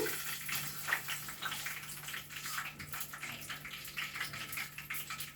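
Cashews, urad dal and chana dal fry in hot oil for a flattened-rice pulihora, giving a steady, close crackling sizzle that runs unbroken from start to finish, with a low electrical hum beneath.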